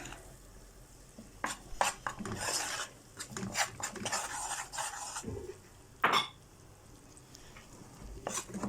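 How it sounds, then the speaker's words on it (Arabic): A spoon scrapes and stirs flour in oil and ghee in a pot, toasting a roux, with irregular clinks and soft scraping strokes, close by and moderately loud, no talking. "نعملهم تقليبة كده"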